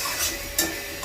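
Green chilli paste is stirred into gravy in a pan with a brief, soft scraping and faint sizzle, including one small clink of the utensil against the pan.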